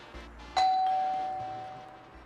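A doorbell rings once indoors with a loud, bright electronic chime that holds and slowly fades over about two seconds in an otherwise quiet room.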